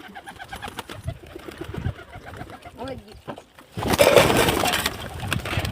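Startled pigeons burst into flight after a slap, a sudden loud flurry of flapping wings that follows a stretch of softer coos and rustling, with some voices nearby.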